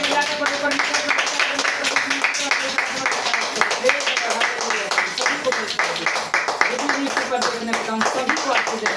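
A church congregation claps together in a dense, steady rhythm through the whole stretch, loud and close, with voices mixed in under the applause.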